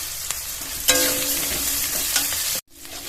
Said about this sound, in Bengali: গরম তেলে পেঁয়াজ কুচি দিয়ে দেবো, রসুন কুচি